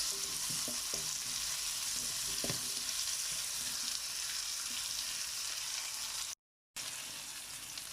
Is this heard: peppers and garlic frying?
yes